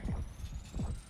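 Scout pulse ability activating in the video game Black Ops 6, heard as a low throbbing hum with two heavy heartbeat-like pulses roughly 0.7 seconds apart, alongside a faint rising high tone.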